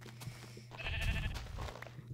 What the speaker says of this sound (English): I'm gonna kill that sheep for a piece of wool